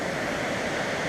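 Great Conglomerate Falls near Ironwood makes a steady, dense roar of falling water, a continuous hiss and rumble with no voices over it.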